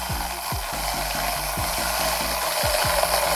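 A bike chain being cleaned in a chain dock while the pedals turn backwards, giving a steady close ratcheting clatter with repeated rhythmic ticks over a soft hiss of scrubbing.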